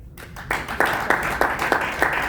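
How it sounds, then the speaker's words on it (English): Audience applause for the First Lady at the Tropic Summit, with steady clapping from a crowd that swells quickly after a quiet start and keeps going at full strength. "A huge round of applause to our First Lady."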